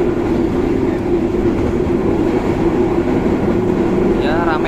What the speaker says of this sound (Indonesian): Kereta malam kayaknya kenceng banget ya, padahal kereta ini hanya sampai 100 km per jam.